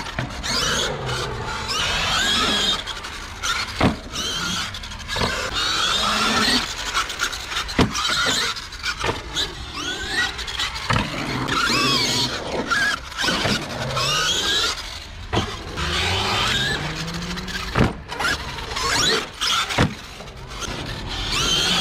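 A Traxxas X-MAXX RC car fitted with 20/46 gearing runs at a skate park, its electric motor whining and revving with repeated surges and squeals, close and loud throughout with no talking.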